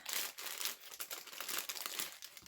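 Packages of craft trims rustle and crinkle as they are opened, a close, continuous papery crackle of plastic wrapping for a couple of seconds with no speech.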